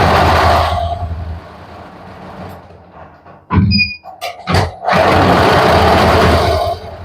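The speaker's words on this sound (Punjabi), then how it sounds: "ਆ ਮਸ਼ੀਨ ਚਲਾ ਕੇ ਦਿਖਾਓ ਜਿਹੜੀ ਆ ਕਢਾਈ ਵਾਲੀ ਆ" A computerised embroidery machine stitches a suit design, running with a loud, steady mechanical whir that stops partway through, leaving a quieter gap with a few sharp clicks and short beeps before the machine starts up again.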